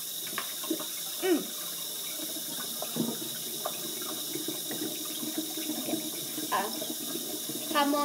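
A kitchen tap runs steadily into a sink during dishwashing, a continuous soft hiss with light clinks and splashes, while voices talk over it.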